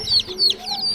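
Young Polish chicken chicks peeping: three rapid, high, close chirps in quick succession, loud and alone.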